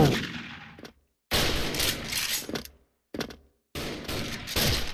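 Sniper shots from an OTs-48K rifle in the shooter Special Force ring out in separate loud bursts, each followed by a short tail, with near-silent gaps between them.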